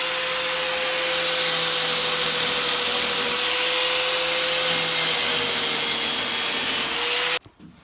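A power sander works steadily on a rough-cut part for a Fox Body race car, giving a loud, continuous abrasive roar with a faint motor whine that holds for several seconds before cutting off abruptly.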